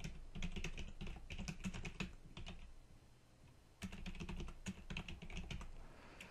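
Rapid bursts of computer keyboard typing, entering text into an Excel formula bar, close and clear, with a brief pause midway before a second run of keystrokes.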